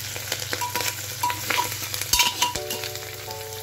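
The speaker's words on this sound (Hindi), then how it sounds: "थोड़ा सा इसे हम फ्राई कर लेंगे" Garlic, curry leaves and spices sizzle in hot oil in a pan, giving a steady close frying crackle with a few light stirring clinks and short tonal beeps near the end.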